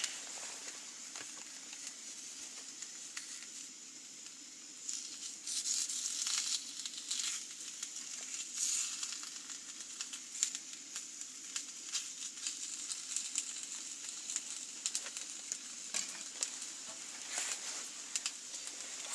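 Ham frying in a pan at a campout breakfast, a steady thin sizzle and crackle that runs throughout with occasional sharper pops, moderately close, alongside faint outdoor sounds.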